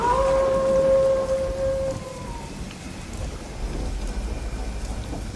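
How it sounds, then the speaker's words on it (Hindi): Heavy rain pours steadily with a dense hiss, while a long eerie tonal howl fades out early and a low rumble sits underneath. "बारिश पहले के मुकाबले बहुत तेज हो चुकी थी।"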